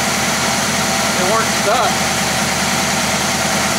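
An abandoned 1966 Chevy Biscayne with a big block engine idles with a steady low rumble close by, while someone speaks briefly over it.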